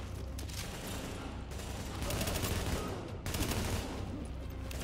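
Gunfire in Tom Clancy's The Division video game, rapid bursts of automatic weapon fire with a mechanical clatter, loud and close, dropping briefly between volleys.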